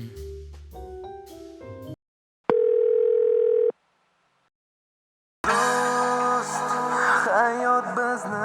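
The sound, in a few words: telephone dial tone while making a call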